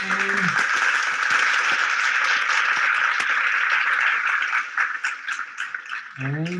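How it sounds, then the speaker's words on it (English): Dense, steady applause from a group of people for Brad, a long unbroken wash of many hands clapping that thins and tapers off near the end as a voice returns. "Let's give a big round of applause to Brad"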